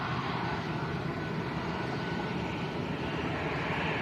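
A Binter ATR turboprop airliner taxiing at Lanzarote Arrecife airport, a steady broad engine roar and hum that holds even and continuous from a moderate distance.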